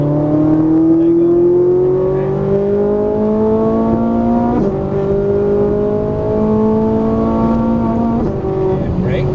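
Ferrari 458 Italia engine on a race track, loud and close, climbing steadily in pitch under throttle with two brief dips at gear changes before pulling up again.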